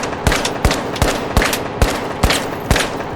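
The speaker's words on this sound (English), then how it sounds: "the ricochet." Bullet ricochets and gunfire from the shooter game THE FINALS, a run of about seven sharp cracks at a steady, rapid rhythm over a dense, noisy bed, with no talking.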